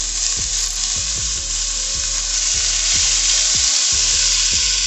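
Steady, loud sizzling of beef and onions frying in a pot, a constant hiss with regular soft clunks of stirring throughout.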